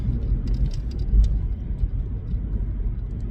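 Steady low road rumble from inside a moving car, with faint clicks and bumps scattered through and no talking.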